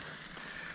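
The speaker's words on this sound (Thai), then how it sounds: "ฝนลงนะผม" Rain begins falling outdoors at a treehouse under construction, a brief, steady soft patter and hiss with no talking.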